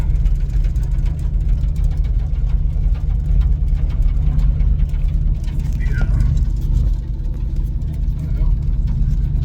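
The engine of a 1978 Chevy C30 wrecker tow truck droning loudly and steadily from inside the cab while driving, with a faint tonal shift partway through and a voice speaking over the rumble.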